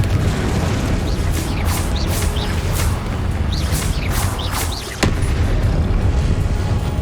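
Confringo blasting spell explosions in Hogwarts Legacy, a string of loud booming blasts with crackling bursts repeating across the stretch, one sharp hit standing out near the end, no talk.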